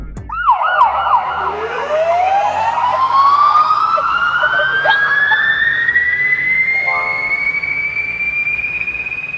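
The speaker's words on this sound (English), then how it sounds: "I'm typing emergency ambulance siren Doppler effect when passing." Synthetic ambulance siren sweeping steadily upward in pitch as it passes, loud and continuous, with a wailing tone that shifts throughout, heard alone without voices.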